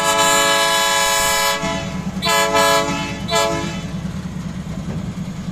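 An old COSIPA locomotive, no. 23, hauls thick steel plates, sounding a loud, sustained horn blast that breaks into short toots over the heavy rumble of the engine and the rolling wagons.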